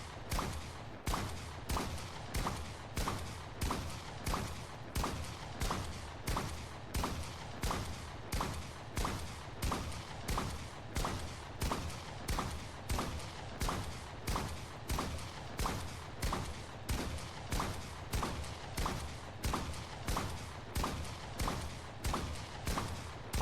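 A slow-firing shotgun in the Fortnite video game fires about two dozen evenly spaced blasts, roughly one each second, in a steady, unbroken rhythm.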